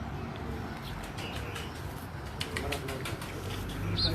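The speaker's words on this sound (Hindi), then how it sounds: "उमर कबूतर दिखाओ इधर" Pigeons coo softly nearby with low throaty murmurs, mixed with faint rustling and background noise, and a voice speaks briefly.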